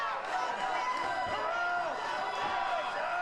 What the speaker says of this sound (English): listen to the crowd. They are going crazy